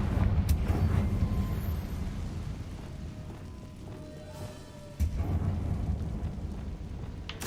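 Fiery blasting spell cast in a wizarding action game, a loud booming burst at the start with rumbling debris that fades, then a second sharp blast hits midway and rumbles on to the end.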